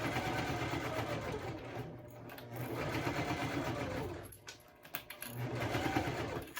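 Sewing machine back-stitching over the thick gusset of a bowler bag, a steady close mechanical whir with rapid needle clatter that briefly slows and dips before picking up again.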